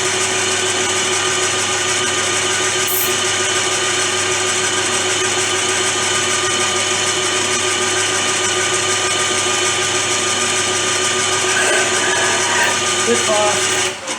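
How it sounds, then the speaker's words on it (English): A center drill bores into a workpiece on a metal lathe in a home workshop, a steady whirring machine drone with a constant whine, near and loud and continuous throughout. "and I'm just about to start drilling."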